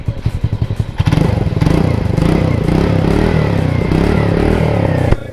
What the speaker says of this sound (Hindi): तो थोड़ा ना इसको रेव करते हैं